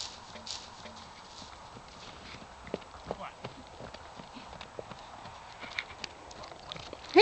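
Horse hooves clip-clopping on firm ground as a new horse is brought to the herd, faint irregular hoof strikes scattered under people talking and background noise.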